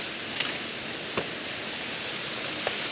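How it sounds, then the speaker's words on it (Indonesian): Waterfall at Beutong Ateuh Banggalang roars as a steady, even wash of falling water heard up close, with a few faint knocks and no voices. "Inilah air terjun yang sebenarnya di Cetkiran."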